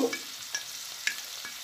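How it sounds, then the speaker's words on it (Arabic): Garlic fries in a pan with a close, steady sizzle, broken by a few light scraping stirs of a utensil, and no voices. "ده الثوم يا بنات، الثوم اهو"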